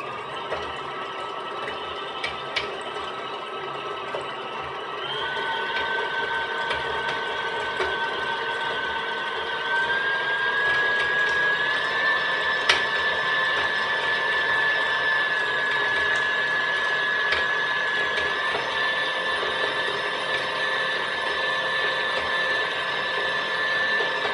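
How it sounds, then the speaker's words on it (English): Old KitchenAid stand mixer running on high speed through cookie dough, a steady mechanical whir with a rising whine and a loosely fitting bowl rattling, continuous and close without talk. "My KitchenAid makes a little bit of a noise because it's old and the bowl doesn't fit quite in like it used to be"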